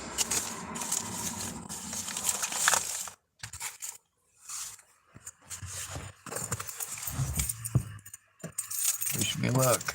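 Keys jangle and clink repeatedly in the hand at close range, in irregular bursts separated by brief pauses, with some scraping and handling noise between the metallic rattles.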